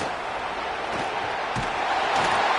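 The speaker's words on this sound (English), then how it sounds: "Listen to this crowd just shaking the girders of this place, trying to help their defense." A college football video game stadium crowd, Arkansas State at Arkansas, roars steadily and loudly as a dense wall of cheering and noise for the whole stretch, with no clear speech over it.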